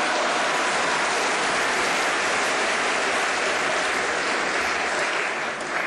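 A studio audience at a television show applauds in a dense, steady wash of clapping that holds evenly throughout and tapers slightly at the very end.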